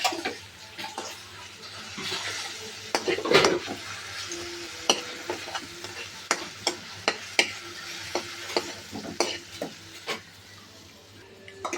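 Aloo biryani mixture stirred in a pot, a steady run of close spoon scrapes and clinks against the metal over a soft background hiss, with a burst of louder scraping early on.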